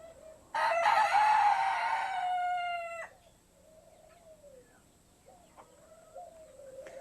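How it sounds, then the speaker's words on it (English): Chickens and doves in a backyard animal pen: a loud rooster crow near the start, followed by softer dove coos and quiet clucking through the rest. "All the background noises you hear are my doves and chickens and"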